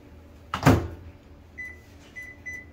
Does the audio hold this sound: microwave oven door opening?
yes